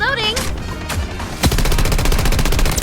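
Automatic rifle fire in the Blood Strike shooter game, a few scattered shots and then a rapid, loud, evenly spaced burst close up, with a voice talking over the start.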